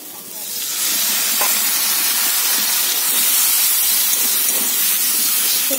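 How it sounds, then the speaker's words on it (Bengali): Water poured into a hot pan of chicken rezala sets off a loud, steady steaming hiss and sizzle that rises quickly and holds at full strength throughout. "এবার আরেকটু জল দিয়ে দেবো।"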